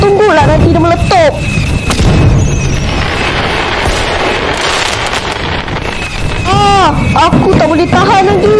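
Big firework rockets whistle upward and burst with deep booms during a Raya fireworks battle outdoors, with wind buffeting the microphone and voices shouting throughout.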